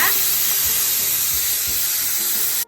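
Ghee-based biryani masala with bay leaf, cinnamon, cardamom and cloves frying: a steady, loud, close sizzle that cuts off abruptly at the end.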